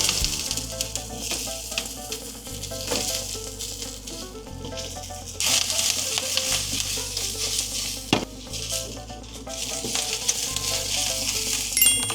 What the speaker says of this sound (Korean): 기름 살짝 두르고 대파부터, 대파랑 양파